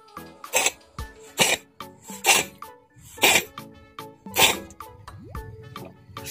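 A sick cat with a heavy flu and blocked nose coughing, a series of about five sharp, wheezy hacks spaced roughly a second apart, close and fairly loud.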